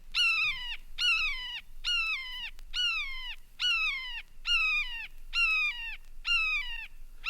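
A red-shouldered hawk gives a steady series of about eight loud, clear, descending cries, evenly spaced and repeated alone with no other sounds.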